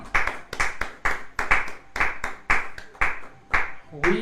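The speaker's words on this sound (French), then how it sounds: "Acclamons pour la sœur Doris depuis France." A church congregation claps in a steady rhythm for a sister, with about nine crisp, evenly spaced claps roughly twice per second, fairly close, and a voice faintly underneath.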